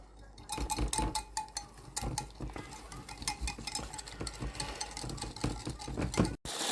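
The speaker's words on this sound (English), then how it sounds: "Whisk it all together, glaze up your ribs" A whisk beating plum, barbecue, sweet chili and soy sauces together in a bowl for wild pork rib glaze, rapid close clattering strokes throughout with no one speaking.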